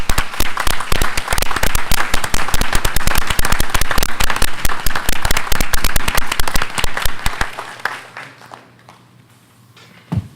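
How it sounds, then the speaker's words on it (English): Loud, dense applause from a standing audience at a school district board meeting honoring the superintendent, sustained claps filling about seven seconds before thinning out and fading to near quiet. "We'll just stand and give you a round of applause early on."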